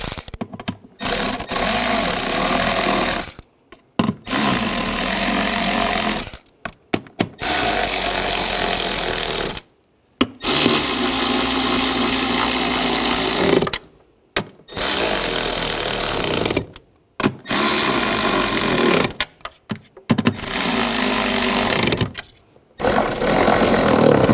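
A power tool whirs in repeated bursts of several seconds each, separated by brief pauses, while tightening tail light nuts on a 2006–2009 Mercedes-Benz E350; close, loud and steady with no talking.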